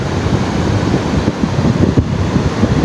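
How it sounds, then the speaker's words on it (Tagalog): Loud, churning sea waves and wind rush continuously close to the microphone, with occasional gusts buffeting it. "lakas pa ng alon"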